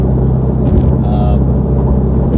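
Steady car engine and road rumble from inside a car on an early morning drive to work, a continuous low drone at constant loudness with a faint whine partway through.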